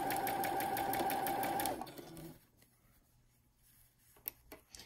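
A sewing machine stitching a fabric bell cover for a woodwind or brass instrument runs in a steady rapid whir for under two seconds, then stops, leaving faint handling clicks.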